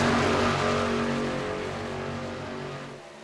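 Racing trucks in a truck-series racing video game roar past, a loud steady engine drone that slowly fades as they pull away.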